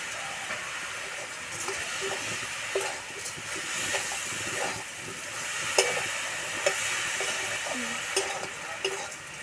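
Grated carrot halwa being stirred in a pan makes a steady close sizzle and hiss, with soft scraping strokes and a few sharper clinks of the spoon against the pan.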